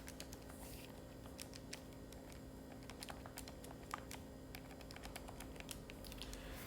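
Quiet, rapid key taps as numbers are punched into a calculator, a steady run of small clicks over a low room hum, with no talking.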